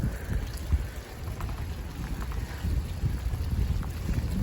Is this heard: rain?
yes